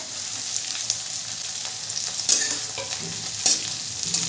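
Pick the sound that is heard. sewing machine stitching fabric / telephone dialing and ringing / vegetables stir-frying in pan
vegetables stir-frying in pan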